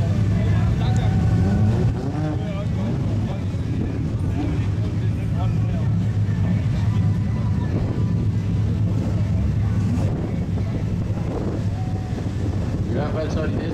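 Race cars idle and rumble at a drag race start line, a VW Golf 3 among them, a steady loud engine drone with wind buffeting and a commentator talking over it throughout.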